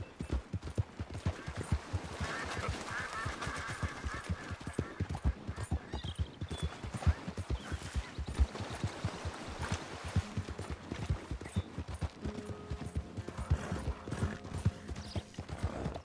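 Hooves pound in a quick, regular gallop while riding a horse in Red Dead Redemption II, close and prominent, with an occasional whinny and outdoor ambience, no talking.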